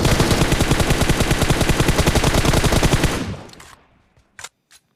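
Rapid automatic gunfire from a battle royale video game, a loud sustained burst of closely spaced shots that stops abruptly, followed by a fading tail and two short, isolated sounds.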